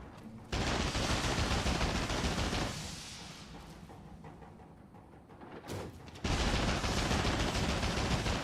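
Cannon fire in the video game Nioh 3: loud, dense booming barrages that roll on for a couple of seconds, ease into a quieter rumble, then burst back in at full strength, with no voices.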